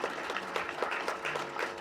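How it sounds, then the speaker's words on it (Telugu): An audience claps at a film press meet, with a run of overlapping handclaps that rise in small rhythmic surges, fairly quiet and heard from a distance. "గట్టిగా మీరు దయచేసి క్లాప్స్ కొట్టాలి."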